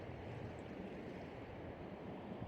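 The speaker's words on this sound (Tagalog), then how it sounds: "malakas lang ang alon dito" Waves wash onto a beach in a steady, continuous rush of broadband surf, fairly faint with no voices over it.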